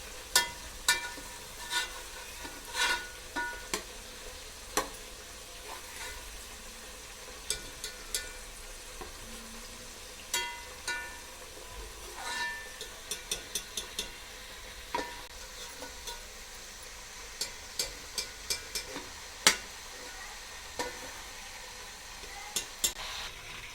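Fish pieces frying in hot oil in a home kitchen for an Old Delhi style fish curry, a steady low crackle broken by frequent sharp pops and sizzling spatters, fairly close and with no talk.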